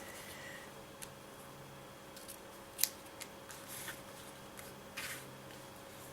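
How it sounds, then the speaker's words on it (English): Scissors cutting ribbon tails for a handmade card, a few faint, sparse snips and clicks against a quiet room hum, one sharper cut standing out. "I'm going to cut the tails"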